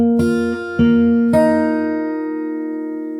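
Acoustic guitar in fingerstyle: a thumb-plucked bass note followed by two more plucked notes, the last left to ring out and fade slowly, close-miked and alone.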